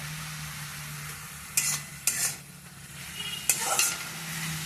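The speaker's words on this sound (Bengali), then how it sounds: "হলুদ দিয়ে একটু কষাচ্ছি।" Spinach seasoned with kalonji, chilli, salt, sugar and turmeric is stir-fried in a pan. A steady close sizzle runs throughout, with three or four scraping stirs of a spatula standing out above it.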